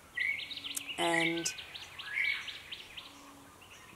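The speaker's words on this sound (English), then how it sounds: "the birds are singing because it's like fresh and grey" Birds chirp and tweet outdoors on a fresh grey morning, bright short calls scattered across the scene at moderate distance, with a brief spoken word partway through.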